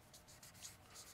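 Pen writing a Bible verse onto paper, a soft steady scratching with short strokes and brief pauses, close and quiet, with no talking.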